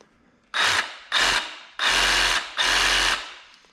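Milwaukee M12 FUEL Hackzall 2520-20 compact reciprocating saw cutting wood in four close, loud bursts of buzzing sawing, each lasting under a second with short pauses between.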